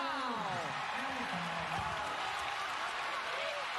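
Steady crowd applause and cheering fill an arena at a women's college basketball game between Vermont and UConn, with a broadcaster talking over the continuous clapping throughout.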